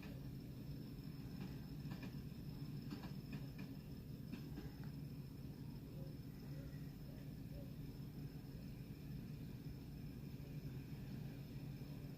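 A freight train in a train simulator game rumbles steadily with a deep, continuous drone, a few faint clanks and squeals drifting over it near the start.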